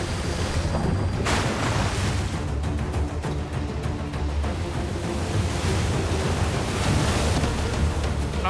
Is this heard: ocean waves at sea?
yes